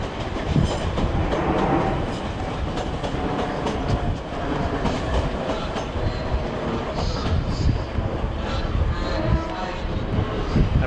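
A Class 455 electric train, unit 45110, running from Portsmouth Harbour towards London Waterloo, passes through Clapham Junction with a loud, continuous roar and rattle of wheels that holds steady throughout.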